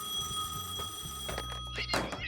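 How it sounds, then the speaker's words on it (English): A telephone rings with a bright electronic bell-like tone, one short burst that gets louder toward the end, heard clearly against a faint background. "The phone rang."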